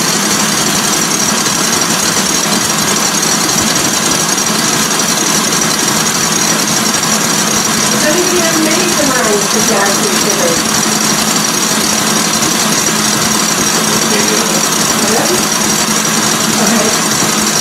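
Electric mixer whisking egg whites into foamy meringue, a loud steady motorized whir and buzz running throughout, with a person talking over it.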